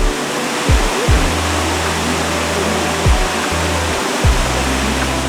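A waterfall in Hokkaido roars steadily in a loud, constant broadband rush, with occasional low thumps of handling noise beneath it.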